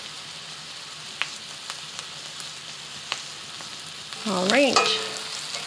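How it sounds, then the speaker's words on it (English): Onions fry in a pan with a soft, steady sizzle, while a utensil taps and scrapes the pan a few times; a brief spoken word follows near the end. "You just want to cook it for about 2 to 3 minutes until the onions are a bit translucent."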